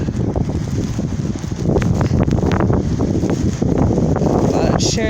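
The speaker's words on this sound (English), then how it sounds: "I don't even know if anybody can fucking hear me because this wind is crazy." Strong blizzard wind in Denver roars and buffets the microphone in a loud, constant rumble that barely lets up.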